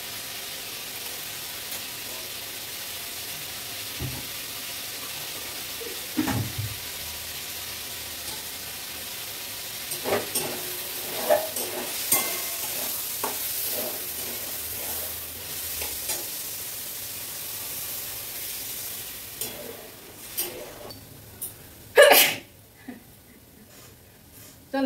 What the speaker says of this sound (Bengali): শাক ভাজাটা হয়ে গেছে, শাক ভাজাটা তুলে নিই